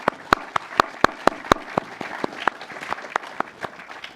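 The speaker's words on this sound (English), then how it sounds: "I'd like to go ahead and give him a round of applause again" Sparse applause from a conference audience at a Tuskegee Airmen panel, a few distinct claps ringing out in an uneven rhythm and fading slightly toward the end, fairly close with room reverb.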